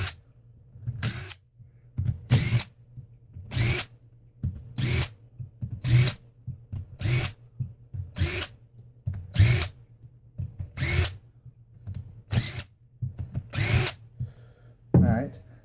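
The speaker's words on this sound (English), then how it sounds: "Here we use our electric impact gun." Electric impact gun spinning off twelve 10mm bolts from a Ford Escape transfer case (PTU), a dozen short loud whirring bursts in steady succession with brief pauses between, close up and without talk.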